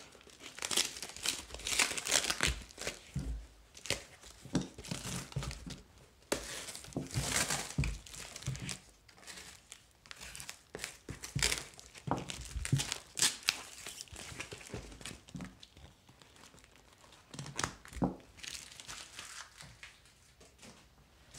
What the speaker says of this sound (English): Just get them both unwrapped and ready to go.